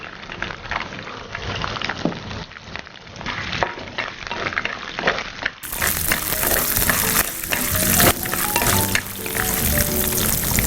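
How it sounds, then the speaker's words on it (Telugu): Green chillies and peanuts frying in oil in a pan, a loud, steady close sizzle with crackling pops that grows fuller and brighter partway through. "ఇది వేగే లోపల పచ్చిమిర్చి, ఇప్పుడు కొంచెం పల్లీలు కూడా వేస్తున్నాను"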